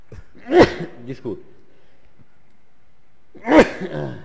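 Two sharp, loud sneezes about three seconds apart burst out close to the microphone, with brief murmured speech between them.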